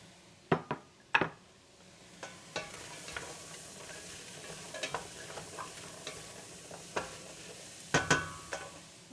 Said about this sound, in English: So first I drop my onion.